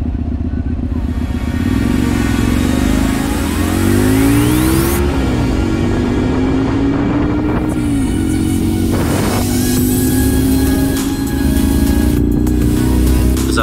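A Honda Varadero 125 motorcycle rides along a road near Władysławowo, its engine droning loud and close with pitch rising and falling through gear changes, over steady wind rush.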